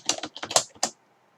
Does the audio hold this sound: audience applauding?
no